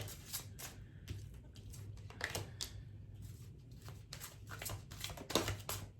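Tarot and oracle cards are shuffled and drawn at close range, a quiet run of soft riffling flicks and card snaps in uneven bursts.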